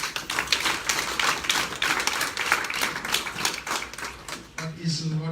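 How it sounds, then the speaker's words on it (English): A small crowd at a political alliance announcement gives a round of applause, with close, sharp hand claps in an irregular rhythm that thins out and stops near the end. "Can you give him a round of applause?"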